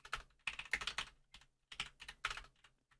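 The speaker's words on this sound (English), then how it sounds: "Oh my god, I can't type today." Quiet clicking of computer keyboard keys while coding a Love2D game, two short bursts of rapid typing separated by a brief pause, close and soft.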